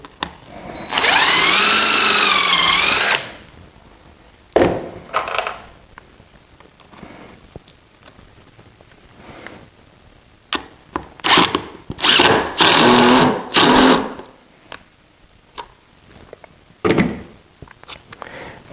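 A power drill bores a starter hole into wood on a traditional wooden sawhorse. It gives a loud whining burst up front, followed by several shorter stop-start drill spurts and clunks of handling.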